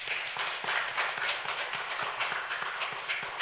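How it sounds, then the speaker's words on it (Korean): A church congregation clapping together, a dense, continuous patter of many hands close by, moderately loud and steady without talk. "그 하나님께 우리 모두 마음을 담아서 영광의 박수 한번 올려드리겠습니다."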